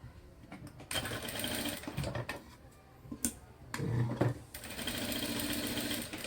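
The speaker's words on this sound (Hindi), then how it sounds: "मैंने यहाँ पे एक चारों टक्स के ऊपर इस तरह सिलाई की है।" A sewing machine stitches across the tucks of a blouse in close, rapid bursts of rattling stitches, separated by short pauses and brief clicks.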